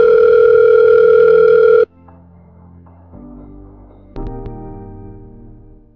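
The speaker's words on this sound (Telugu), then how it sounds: "ఇప్పుడే మన ఫ్రెండ్స్ అందరికి ఫోన్ చేద్దాం" A telephone dial tone sounds loudly and steadily for about two seconds, then cuts off. Quieter clicks and tones from the phone follow as a call to friends is placed, with no speech.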